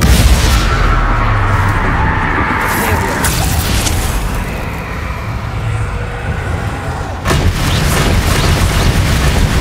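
Bombarda spell explosions burst in Hogwarts Legacy combat as loud, booming blasts with rumbling tails, layered over dense game sound and a voice casting spells.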